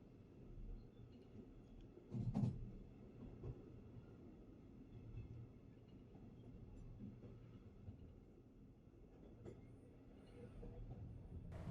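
A slow-moving SJ EuroNight sleeper train nearing Hamburg Altona rumbles at low volume, with occasional clanks and creaks and a louder bump early on.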